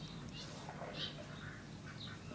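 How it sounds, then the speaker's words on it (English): Ducks swim on a river, giving a few faint, scattered quacks and calls at a distance over steady low outdoor background noise. "there's some ducks"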